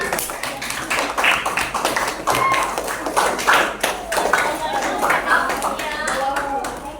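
A classroom of students claps together, with quick, uneven hand claps filling the clip and a voice speaking over the applause.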